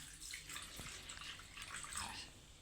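Water is poured over raw prawns being washed before frying, a faint, continuous close splashing and trickling lasting a couple of seconds with no voices.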